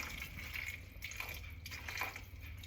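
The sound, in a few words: water poured into pot for cooking fusilli pasta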